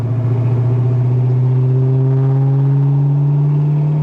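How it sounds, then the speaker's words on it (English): A 1993 Ford Mustang SVT Cobra V8 exhaust rumbles steadily from close by, with a deep, droning note that slowly climbs in pitch and holds a smooth, loud tone throughout. "That exhaust sounds good."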